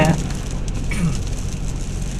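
Steady, dense rain pours down in Pathum Thani, Thailand, during a heavy all-day downpour. It makes a continuous loud hiss with no breaks, close and even throughout.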